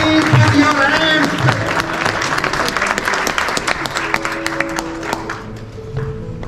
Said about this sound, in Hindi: भरपूर तालियों में प्लीज पुट योर हैंड्स